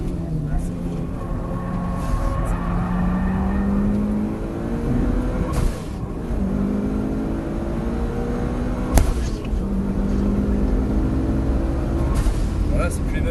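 A Robin Evo 8 race car drives on a track, its engine droning loudly and steadily as the pitch rises and falls, while people talk over it throughout.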